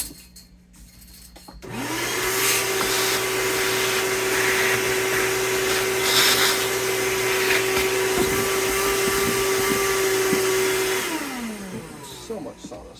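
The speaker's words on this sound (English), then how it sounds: "Now where's my vacuum?" A shop vacuum cleaner sucks up sawdust after installing a Kahler bridge on a BC Rich bass, switching on with a rising whine, running steadily and loudly for about nine seconds, then winding down.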